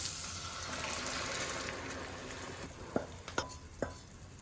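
Sliced ripe tomato and cooked chickpeas go into sautéed onions for Kerala kadala curry, a soft low sizzle with a few sharp spoon knocks on the pan toward the end.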